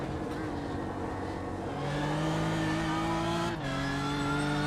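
BMW GT3 race car engine in the iRacing video game, a steady buzzing drone climbing through the gears with a brief dip at a shift, loud and continuous with no talk.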